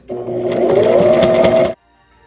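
Sewing machine stitching through table topper fabric, one close, loud steady whirring run of about a second and a half with a rapid needle chatter, stopping abruptly, no voices.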